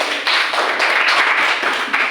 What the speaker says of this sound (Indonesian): Oke, thank you kelompok 1, tepuk tangan.